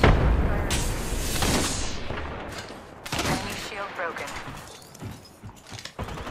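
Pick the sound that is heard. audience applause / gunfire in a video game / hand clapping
gunfire in a video game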